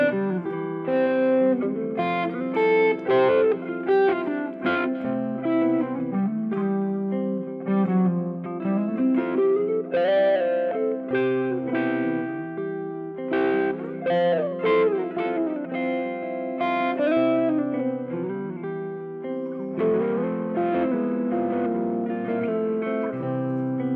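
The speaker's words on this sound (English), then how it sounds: "You can start playing with intervals like 6 and fourths to surround and create different double stop kind of sounding effects around each chord." Electric guitar playing melodic double stops in sixths and fourths that move around chord tones, a steady, clean-toned phrase with light effects, close and continuous and no voice.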